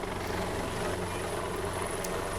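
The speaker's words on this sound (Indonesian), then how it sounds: "Presiden tiba dengan menggunakan helikopter yang mendarat di lapangan Musara Alun, Blangkolak." A helicopter comes down onto an open town field, Musara Alun, its rotor and engine a loud, steady, unbroken roar throughout.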